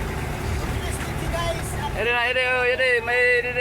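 A motor engine runs steadily near a parking spot, its noise rising into a wavering, pitch-shifting drone about halfway through, with voices mixed underneath.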